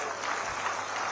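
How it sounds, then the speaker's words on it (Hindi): An audience at a political gathering in Sundarnagar claps to welcome the Chief Minister, Jairam Thakur. The clapping is a brief, even, full wash of many hands, with crowd murmur mixed in. "एक बार जोरदार तालियों के साथ अभिनंदन करते हुए"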